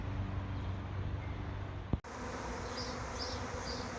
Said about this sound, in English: We're seeing 6 or 8 bees here at a time.